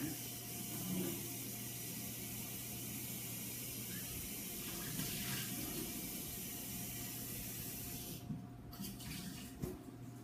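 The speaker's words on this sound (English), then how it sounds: "I'm just going to rinse this guy out here." Water runs steadily from a kitchen sink tap as a pan is rinsed out, a continuous close splashing hiss that persists for about ten seconds with brief shifts near the end.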